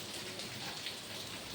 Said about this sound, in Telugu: చూసినారా బయట అయితే ఎంత ఫుల్గా వర్షం పడుతుంది